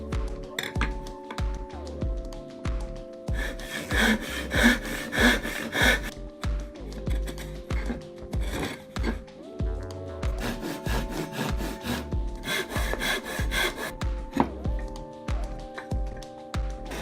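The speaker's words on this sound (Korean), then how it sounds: "집성된 판재는 원하는 길이에 맞게 톱질을 해줍니다." Rhythmic back-and-forth strokes of a hand saw cutting a glued-up wooden panel to length, in bursts of rasping noise, with background music playing throughout.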